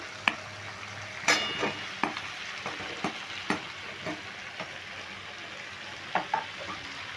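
Pumpkin, potatoes and prawns stir-frying in a pan, a steady sizzle broken by irregular spatula clinks and scrapes against the metal, close and fairly loud with no talking.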